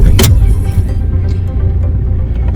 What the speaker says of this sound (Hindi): गाड़ी में भी बैठी हूँ, तो गाड़ी स्टार्ट कर ली है मैंने।